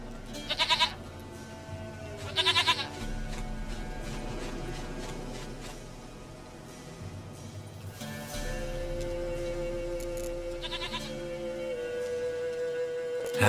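A goat in the video game The Witcher 3 gives short, quavering bleats, a pair early on and more later, over a low, steady ambient game hum, with no talking.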